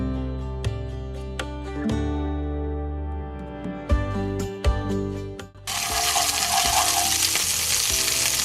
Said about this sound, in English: I'm going to start off adding my knob of butter into the pan